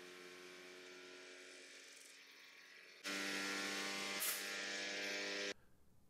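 A 3D printer with a rigid metal gantry runs an input shaper resonance test, giving a steady mechanical hum and buzz that jumps to a louder, brighter tone for a few seconds before falling back.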